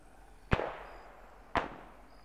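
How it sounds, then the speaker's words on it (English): Two sharp, loud gunshots from a rifle in the military shooter ARMA 3, spaced about a second apart, each with a short echoing tail over faint background ambience. "What's he shooting at?"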